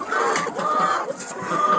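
Backyard chickens cluck and squawk in a busy flock crowding around at feeding time, a steady close chorus of overlapping calls with no talking.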